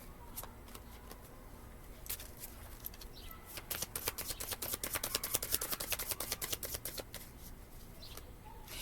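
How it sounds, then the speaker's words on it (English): Rapid riffling of tarot cards, a dense burst of crisp flicks building to a peak and tapering off, close by with no voices. "I'm shuffling the cards really weird."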